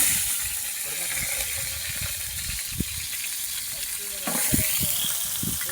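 Onions frying in hot oil in a village kitchen, giving a steady close sizzle with a few scrapes and clinks of stirring.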